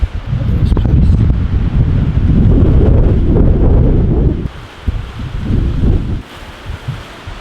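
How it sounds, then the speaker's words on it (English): Gusty wind buffets the microphone during a rainstorm at an outdoor wedding, a heavy close rumble that surges, drops away briefly, then returns more faintly. "It is raining, a little windy"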